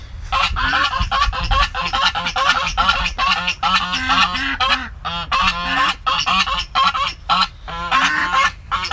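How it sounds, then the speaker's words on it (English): A flock of geese honking loudly and continuously nearby in a garden with ducks, overlapping repetitive calls with brief gaps, no talking. "Let's see how the ducks and the geese are doing."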